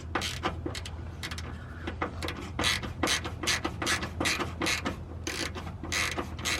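A ratchet with a socket tightening a nut while installing a MillerCAT cat shield on a Toyota RAV4 Prime, a quick series of close, crisp clicking bursts in an uneven rhythm, with no talking.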